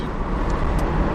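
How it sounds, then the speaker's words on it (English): Wind and road roar inside a Mazda MX-5 RF at 100 on the highway, a dense, steady broadband rush filling the cabin without pause. "the wind noise is fairly impressive."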